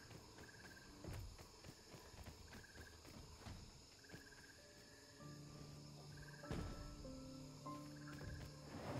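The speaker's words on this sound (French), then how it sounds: "Oui, c'est le corbeau qui fait ce bruit-là." In the survival video game Grounded, a crow repeats short harsh calls at a steady rhythm over a low outdoor game ambience with faint footsteps.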